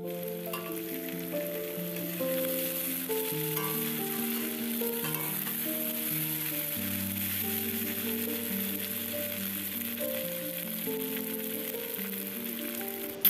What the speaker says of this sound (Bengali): মাছের তেলটা কিন্তু আমি ভেজে নিই না, এই কাঁচা তেলটাই আমি দিয়ে দেবো, দিয়ে নাড়তে নাড়তে নাড়তে নাড়তে একদম পুরো ভাজা ভাজা হয়ে যাবে